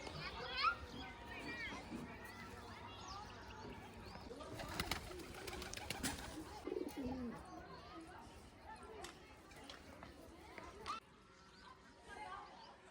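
Pigeons gather at grain and water, cooing and fluttering close by while children play and people chatter in the background, with scattered clicks and pecking sounds.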